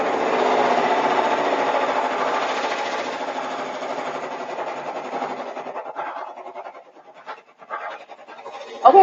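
Embroidery machine stitching a design onto a sweatshirt, a steady rapid mechanical buzz and rasp that runs continuously before thinning into sparse ticks and a final clunk near the end, with no talking.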